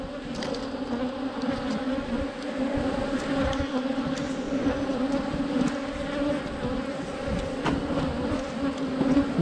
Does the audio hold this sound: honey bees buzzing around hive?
yes